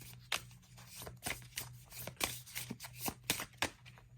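Light Seers tarot deck being shuffled by hand, a run of crisp riffling bursts and card slaps in an uneven rhythm, close and clear over a faint steady hum, with no talking.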